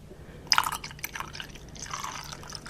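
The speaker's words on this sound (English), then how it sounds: "Let me pour my coffee." Coffee pours into a cup at a breakfast table on a rainy morning, giving a short liquid trickle. Splashy bursts come near the start and again near the end, close and fairly quiet.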